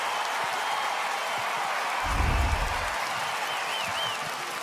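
Basketball arena crowd at an NBL game between the Adelaide 36ers and Tasmania JackJumpers, a steady roar of cheering and clapping with a brief low rumble in the middle, under faint commentary.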